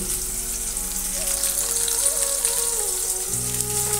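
Spices sizzle steadily in hot oil in a pan as chili powder goes in, a dense, continuous frying hiss with no talk and a slight shift in tone near the end.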